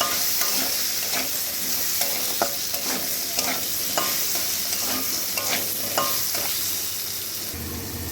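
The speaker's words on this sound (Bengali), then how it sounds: "ওদিকে আলু ভাজাটা হোক" Potatoes fried golden with turmeric sizzle steadily in a hot pan, with a spatula stirring and scraping at irregular intervals; no voices.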